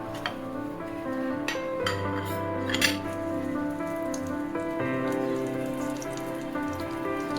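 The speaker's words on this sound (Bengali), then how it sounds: "যেগুলোতে আমরা তিল দিইনি তো সেটা ডিরেক্ট মেখে তেলের মধ্যে এইভাবে বড়ার আকারে দিয়ে দিই।" Water spinach fritters fry in hot oil, giving off a constant patter of spitting and crackling like light rain, with a few utensil clinks near the start. No voices are heard.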